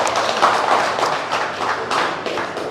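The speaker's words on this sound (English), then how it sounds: "give them a round of applause." A town hall audience in Inalåhan, Guam claps steadily in a dense, unbroken round of applause that holds at a fairly even level for nearly three seconds, with no voices over it.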